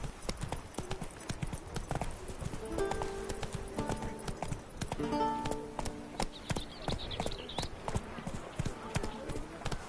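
Roach the horse gallops in The Witcher 3, hooves clip-clopping in a rapid, uneven rhythm close by, with short bursts of speech and other game sounds mixed in.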